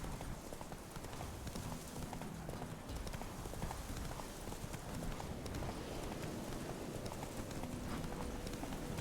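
Roach the horse galloping in The Witcher 3, fast rhythmic clip-clop hoofbeats continuing steadily, close and clear, with game ambience and faint voice underneath.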